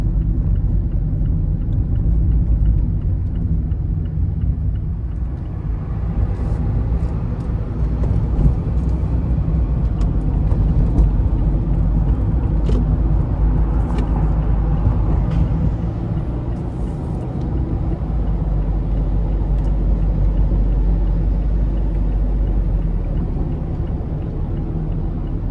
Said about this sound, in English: the wind noise doesn't really bother me that much